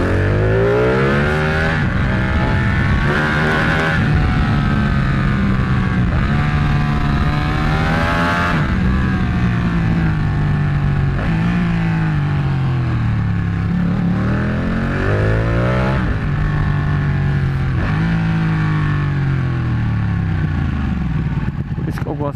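A Ducati 1199 Panigale engine revs continuously on a ride, rising and falling through gear changes, loud and close, with talk over it.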